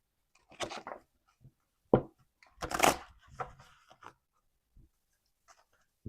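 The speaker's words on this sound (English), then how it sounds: "I can shuffle all day, baby." Tarot cards are shuffled in short bursts of riffling and slapping, a few quick flurries separated by pauses, close and fairly quiet.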